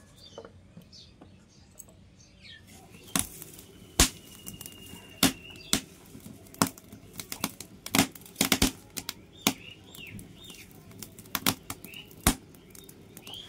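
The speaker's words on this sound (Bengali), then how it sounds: "চলো সবজি পাতিগুলো এখন কেটে নিই। কুমড়োটা কাটবো, পটলটা কাটবো" Pumpkin and pointed gourd are chopped by hand, a series of sharp, irregularly spaced cutting knocks close to the microphone over a quiet room background.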